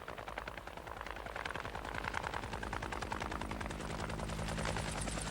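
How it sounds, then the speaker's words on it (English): Helicopter gunship flying, its rotor blades chopping in a rapid, steady pulse that grows louder and closer, with a heavy engine roar and no voices. "Who'd want to meet a helicopter gunship leaping up before him?"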